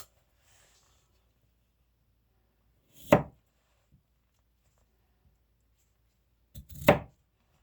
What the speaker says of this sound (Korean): 그리고 한 4, 5cm 간격으로 썰어 주세요